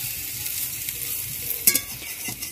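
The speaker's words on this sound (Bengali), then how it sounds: "কারণ দু সাইডে আমরা তেলে ভেজে নেব ভালোভাবে" Potato pakoras bubble and sizzle in hot oil, a steady close crackling hiss with a few sharper pops and stirring clinks, no talking.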